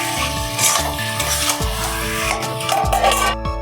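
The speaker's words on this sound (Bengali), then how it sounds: "দিয়ে ভালো করে নাড়িয়ে আমি ঢাকনা দিয়ে দেবো 10 মিনিটের মতো কষার জন্য।" A chicken liver curry is stirred in a pan while it sizzles, with a spoon scraping and clinking against the metal in short strokes close by, and no voices.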